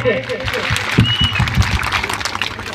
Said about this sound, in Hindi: एक बार जोरदार ताली पाड़ी दे